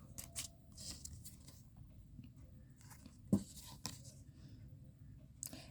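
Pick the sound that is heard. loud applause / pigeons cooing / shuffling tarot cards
shuffling tarot cards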